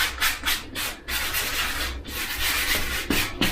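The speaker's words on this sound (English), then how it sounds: "So once this is all over your frame, you can then start sanding" Steady abrasive sanding strokes rasp back and forth in a quick, uneven rhythm, close up and loud, taking black paint off a Schwinn Cruiser bicycle frame, with no talking.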